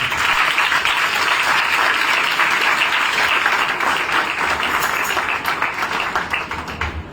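Loud, sustained applause from a crowd at a youth ministry anniversary celebration, steady dense clapping with a few sharper claps, holding for several seconds before easing slightly at the end.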